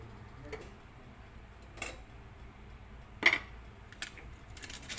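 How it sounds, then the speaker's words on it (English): A metal spoon scoops cooked rava idli out of a hot oiled mould, giving a few sparse, faint scrapes and clinks, with one sharper knock near the middle and light tapping at the end. "So now we are using a spoon to scoop it out."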